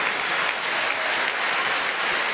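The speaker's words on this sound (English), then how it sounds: "the standing ovation from the crowd here at the Falconer Centre" A crowd at the Falconer Centre gives a standing ovation at a badminton match, sustained dense applause filling the arena evenly from start to finish.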